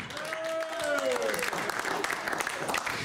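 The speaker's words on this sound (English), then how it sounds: "Did you guys just give me a round of applause for my accent?" An audience breaks into applause, steady clapping that carries on to the end, while a voice with a rising, sung tone is heard at the start.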